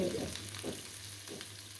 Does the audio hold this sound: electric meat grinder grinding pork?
no